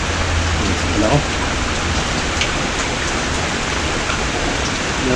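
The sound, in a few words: rain falling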